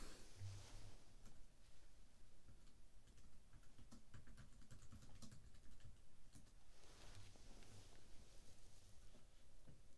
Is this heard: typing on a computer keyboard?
yes